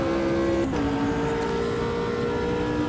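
A race car in Automobilista 2 drones at steady, loud engine pitch, with a quick gearshift that briefly dips the tone before it settles into a lower, sustained whine.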